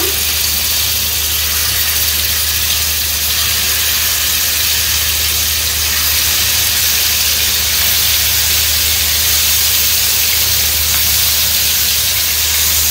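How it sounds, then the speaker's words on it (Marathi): Chicken pieces frying in heated oil over a low flame, a dense, even sizzle and hiss that holds steady at close range throughout, with no voices over it. "तर या तेलामध्ये आपण हे चिकनचे पीस सोडून घेऊया।"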